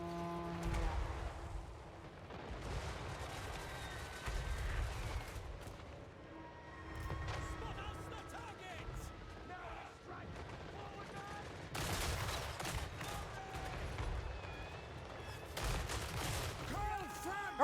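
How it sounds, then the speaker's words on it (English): Machine gun fire and battle noise from Total War Warhammer 3, with bursts of gunfire and booms over a dense background of combat sound through most of the stretch, while a voice talks over it at times. "and there's the machine guns"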